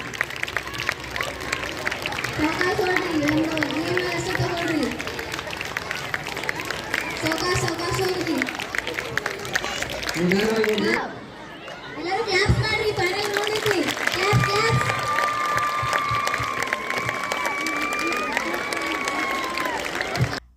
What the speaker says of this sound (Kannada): ಇನ್ನೂ ಜೋರಾಗಿ ಚಪ್ಪಾಳೆ.